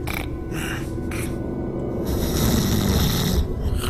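A man snores loudly in his sleep, with steady rasping inhales repeating over a few seconds and no talk.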